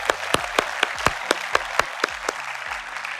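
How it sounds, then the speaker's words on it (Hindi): Audience at a motivational speech event breaking into steady rhythmic applause, a dense wash of clapping with regular louder beats, near and fairly loud, with no talk over it. "इनको भी एक बार जोरदार ताली"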